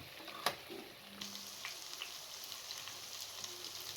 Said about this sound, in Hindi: उसमें अब भिंडियों को डालकर मीडियम टू लो फ्लेम पर फ्राई कर दें